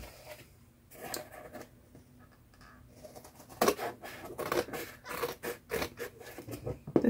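Scissors cut the edge off a paper page in a handmade rainbow junk journal: a few crisp, close snips and paper scrapes cluster in the second half after a quiet start.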